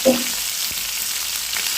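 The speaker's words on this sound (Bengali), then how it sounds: "দেখো বন্ধুরা, মাছটা কিন্তু আমার সম্পূর্ণ ভাজা হয়ে গেছে, আর একটা মাছও কিন্তু ভাঙেনি।" Surma fish and potatoes fry in a pan with a steady, dense sizzle that stays even and close throughout, with no voices.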